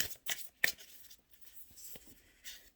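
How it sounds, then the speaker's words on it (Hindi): A deck of tarot cards is shuffled in several quick riffling bursts at close range, with brief pauses between them and no talking. "मैं इसको थोड़ा सा और शफल कर दूं ताकि लास्ट वाले अगर कोई कार्ड्स मिक्स हुए हुए हों तो ना आए।"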